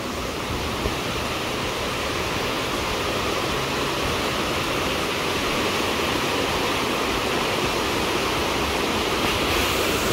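Strong floodwater current rushing past, a loud, dense, continuous roar of turbulent water heard up close without a break and with no talking.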